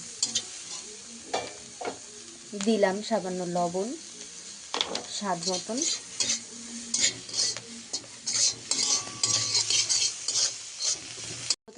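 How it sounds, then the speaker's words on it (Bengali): Capsicum and beans stir-fry in a hot pan for vegetable chow mein, with steady sizzling and repeated scraping strokes of a spatula. Someone speaks briefly over the cooking. "তো আমি ক্যাপসিকাম আর বিনসগুলো দিয়ে দিলাম এর মধ্যে এবার আস্তে আস্তে এগুলো ভাজা হতে থাকবে"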